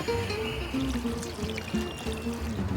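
Water poured into a cooking pot for a tomato and white wine sauce, a close, continuous gurgling pour with shifting bubbly tones.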